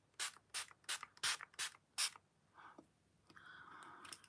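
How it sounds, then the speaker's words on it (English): A Revolution Pore Minimizer setting spray facial mist pumps out six quick, close hissing sprays in a steady rhythm, followed by faint handling sounds of the bottle. "I'm going to go in with this Revolution Pore Minimizer Setting Spray, well, facial mist."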